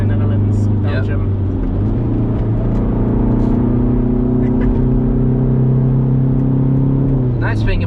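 A car rolls slowly along a race track, its engine giving a low steady rumble with slight shifts in pitch, while people talk over it throughout.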